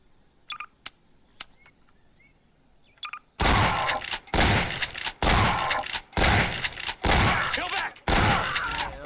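Gunfire in a Garry's Mod NPC battle, starting with a few faint chirps and isolated shots, then a loud, rapid string of close gunshots in quick bursts filling the rest of the clip.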